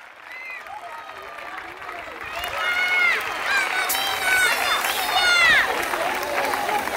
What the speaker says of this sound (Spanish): Ellas se merecen nuestro aplauso.